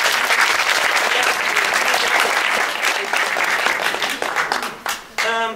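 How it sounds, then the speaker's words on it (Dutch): An audience at a literary café evening gives hearty applause for a reader, dense clapping that thins and breaks into scattered claps toward the end as a voice starts speaking. "Nou goed, grote applaus voor Carlijn."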